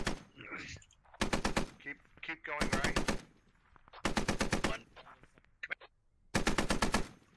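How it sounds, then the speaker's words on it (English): A .50 cal heavy machine gun fires in the video game Squad in four loud, rapid bursts separated by short pauses, with faint voices in between. "This 50 cal has only got about a 60 degree angle you can fire him at."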